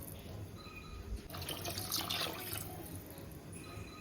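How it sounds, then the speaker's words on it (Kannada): Water pours into a cooking pot of milk as a faint, steady trickle and splash that builds in the middle of the stretch before tapering off, with no one speaking. "ಇದು 2 ಲೋಟ ನಾನು ನೀರನ್ನ ಹಾಕ್ಕೊತ ಇದ್ದೀನಿ"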